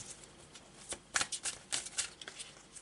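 Tarot cards being shuffled and drawn by hand, with a soft run of riffling flicks and snaps that grows busier midway. Close and fairly quiet, and no voice is heard.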